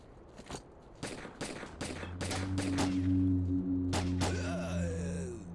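AK rifle firing in STALKER: Clear Sky, a string of sharp separate gunshots spaced irregularly, then a sustained droning tone with a few final shots and a ringing tail, fairly close.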